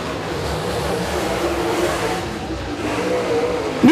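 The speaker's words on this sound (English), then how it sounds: "A couple fast cars out there now." Super late model race cars run at speed around an oval track, a steady broad engine roar throughout with a rising rev near the end as a car passes close.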